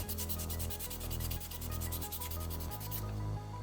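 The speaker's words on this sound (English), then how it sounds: "take your little piece of sandpaper" Sandpaper rubbing over a micarta knife handle in quick, steady back-and-forth strokes, a close, continuous scratchy rasp with no talking.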